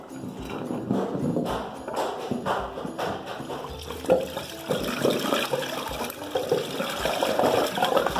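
Water poured into a household drain, splashing and gurgling as it runs down the sewer pipe, with a steady rushing and sputtering wash that carries on throughout at moderate loudness.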